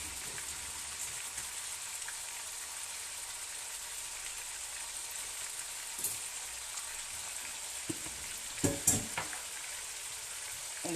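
Lamb chops with crushed chili sizzle steadily in a hot pan, a dense even crackle that carries on throughout, with a few louder clinks or spatters near the end and no voices.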